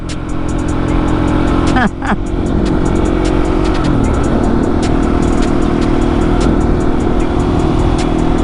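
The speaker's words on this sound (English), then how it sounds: "Possibly my longest second gear wheelie ever." A motorcycle engine roars loud and close while the rider holds a long second-gear wheelie, with a brief dip in revs early on before the sustained drone resumes over wind noise.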